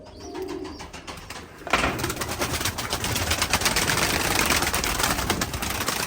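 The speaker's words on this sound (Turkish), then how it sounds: "Bak gene aynı kuşlar" Pigeons coo and flutter nearby, the sound thickening into a busy, continuous chorus of birds after a moment, with no talking.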